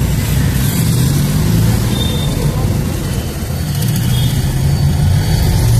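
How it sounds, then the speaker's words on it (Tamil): A modified Honda Civic exhaust rumbles deeply and continuously at close range, a loud, throaty low drone that barely varies. "எக்ஸாஸ்ட் நோட் வந்து சும்மா பிரமாதமாக இருக்குங்க"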